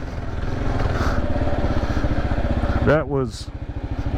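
2024 Kawasaki KLR 650 motorcycle climbing a steep sandy hill in first gear, a loud close thumping single-cylinder engine pulsing steadily under load, with someone speaking briefly over it.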